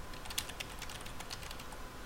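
Typing on a computer keyboard while entering a VM name in Veeam backup software: a quick, steady run of light key clicks, close and fairly quiet, with no speech.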